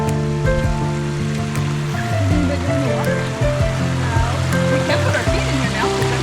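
Flowing, crystal-clear stream water runs steadily on the Florida Trail, with sustained melodic tones layered over it.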